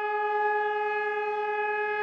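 A steady, sustained siren like an air raid siren or foghorn drones on at an even pitch, faint and distant, with no rise or fall.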